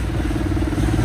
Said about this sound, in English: that's a look at the motor that they're using in these boats